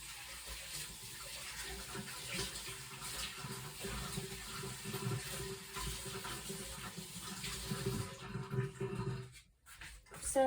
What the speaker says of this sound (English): Gotta rinse my hands again.